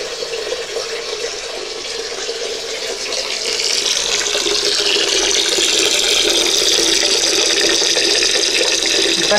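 Tap water runs steadily through an eSpring water filter unit, a continuous close hiss and splash that swells louder partway through, with no voices.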